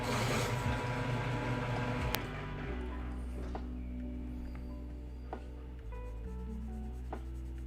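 A pencil sharpener grinds a pencil, a loud, steady whirring for about two seconds that drops to a lower hum with a few faint clicks.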